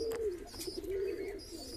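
Fantail pigeon cooing up close in a breeding room, a low rolling coo that swells and dips in steady waves for under two seconds, with faint chirps higher up and no voices.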